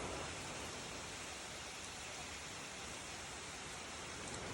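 Steady rain falls on an Arizona farm during a rainy morning storm, a constant even hiss of drops from inside a shelter, with no voices.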